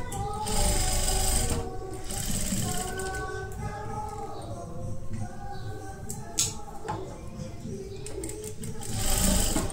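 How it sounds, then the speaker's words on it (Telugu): Sewing machine stitching the edge of a princess-cut kurti, a close continuous mechanical whirr with rhythmic needle clatter that pauses briefly, while someone talks over it. "కుట్టినాక ఇటు సైడ్ కూడా ఎడ్జ్లో కూడా కుట్టుకోవాలి."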